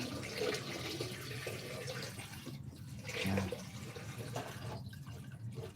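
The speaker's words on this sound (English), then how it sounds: "once that drains and it's done draining, like that's it running all the water that's in the pipes in the house out." Water rushes and gurgles as it drains out of a house's hot water pipes, a close continuous flow with splashing surges and no talking.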